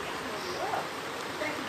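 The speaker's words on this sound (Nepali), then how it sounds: "अहिले चाहिँ आफ्टरनुनमा यस्तो पानी पर्दैछ" Afternoon rain falling steadily, a continuous soft hiss of drops with no distinct individual hits, fairly even in loudness throughout.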